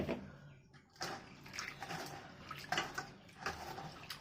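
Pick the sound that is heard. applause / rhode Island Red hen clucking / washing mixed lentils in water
washing mixed lentils in water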